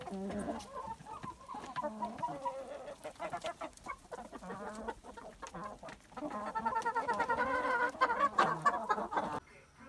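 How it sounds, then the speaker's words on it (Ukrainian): Barbezieux hens and other poultry cluck steadily outdoors on snow, a flock of birds near at hand with overlapping clucks that swell louder and busier toward the end. "Птиця наша на снігу."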